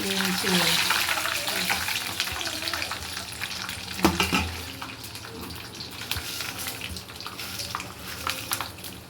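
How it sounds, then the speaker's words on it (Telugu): Pulihora tempering ingredients sizzle and crackle in a pan at close range, with stirring scrapes and a brief louder clatter midway. Voices talk over the opening seconds, then the frying continues on its own. "ఇవన్నీ మొత్తం వేయించేసుకోవాలి కదండి"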